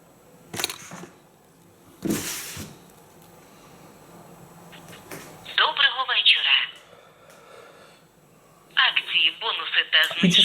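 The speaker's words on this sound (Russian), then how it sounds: "Набираем номер." Dialing and ringing come from a MASX Aurora One smartwatch working as a speakerphone for a smartphone, heard as short tone bursts and a louder electronic ringing passage near the end, with a voice speaking near the start.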